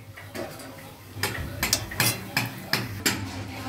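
Prawn fritters are lifted out of hot frying oil with a metal utensil, making a run of about eight sharp clinks and scrapes against the pan at an uneven pace, close and moderately loud.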